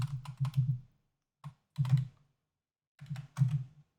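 Bursts of typing on a computer keyboard, quick clusters of close, crisp key clicks separated by short pauses, with no voices.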